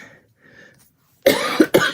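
Two sharp, loud coughs close to the microphone, one right after the other, following a quiet pause.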